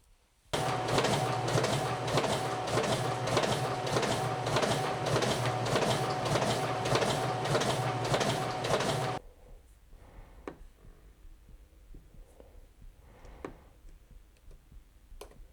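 Risograph printer running loud and steady to drain an orange ink drum, a dense rhythmic mechanical clatter with fast repeating ticks for about nine seconds, then stopping abruptly, leaving quiet room sounds and scattered faint clicks.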